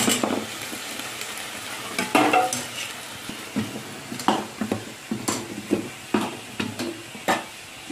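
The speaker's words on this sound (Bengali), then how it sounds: "তো আমার সবগুলো পিঠা ভাজা হয়ে গেছে, এবার তুলে নেব" Hot oil crackles and sizzles steadily around rasher-like shongko pitha, Bengali sweet pastries, as they fry, broken by repeated sharp clinks and scrapes of a utensil stirring and lifting them in the pan, close and fairly loud with no talking.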